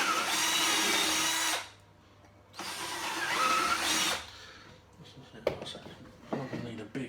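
Power drill boring a hole in wood for shelves, two loud whirring bursts separated by a short pause, followed by quieter handling clatter.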